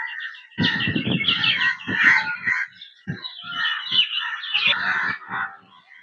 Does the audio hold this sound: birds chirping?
yes